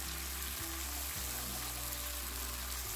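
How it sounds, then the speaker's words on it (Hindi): Ginger garlic paste frying with onions in a pan for a dhaba-style chana dal, a steady dense sizzle with low stirring bumps, close and continuous with no talk. "अब इसमें जिंजर और गार्लिक की पेस्ट शामिल कर रही हूँ, फिर इनको 2 मिनट भूनूंगी"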